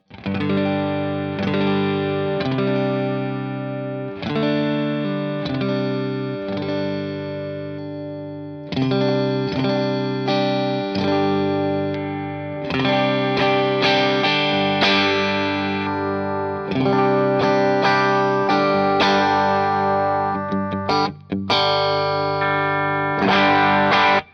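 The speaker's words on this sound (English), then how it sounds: "Here's just the neck pickup sound." An LSL Saticoy ERA electric guitar on its neck pickup plays warm, slightly overdriven chords and melodic phrases through a 5E3 Tweed Deluxe-style amp, continuous and full-bodied with a touch of grit, no talking.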